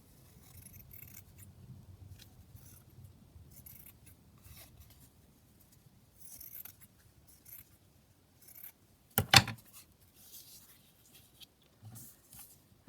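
Scissors cut around a printed book image on fabric for a craft journal, quiet snipping and rustling in short bursts, with one louder sharp scrape or snip partway through.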